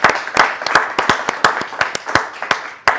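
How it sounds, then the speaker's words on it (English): A crowd claps steadily, with sharp individual hand claps standing out against a continuous wash of applause. "Y'all can clap for that."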